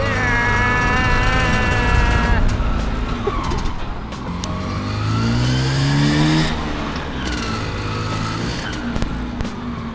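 A small Vespa SS90 scooter engine drones while riding, its pitch rising and falling as it speeds up and eases off, loud and close throughout.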